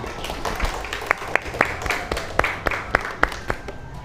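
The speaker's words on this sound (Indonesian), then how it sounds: "Tepuk tangan untuk temannya" Students in a classroom clap for a classmate during an Indonesian language lesson, a smattering of hands with a few louder, sharper claps standing out near the recorder, rising and fading over a few seconds.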